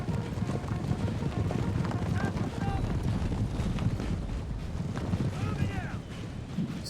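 Light horse cavalry charging in Napoleon Total War, a dense steady rumble of galloping hooves with clattering and battle noise throughout, under a voice talking.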